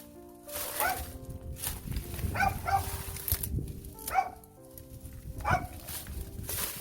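A dog barks repeatedly at a rural village house, the barks scattered over a steady background rumble of outdoor noise, moderately close and without speech.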